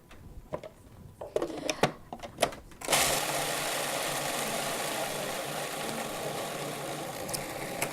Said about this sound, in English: So when you guys use Vitamix like a food processor, do it on a low speed